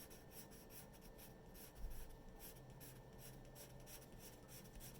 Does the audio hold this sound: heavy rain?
no